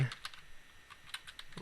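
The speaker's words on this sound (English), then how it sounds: "we're going to type in IP domain" Keys on a computer keyboard are tapped in a brief, fast sequence of light clicks over faint room hiss.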